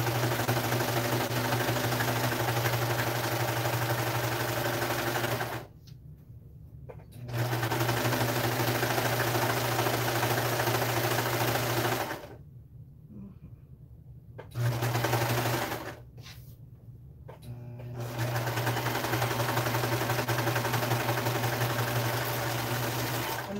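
A serger sewing machine stitches a pajama pant leg in long, loud, steady whirring runs that stop several times for brief quiet pauses before the motor starts up again.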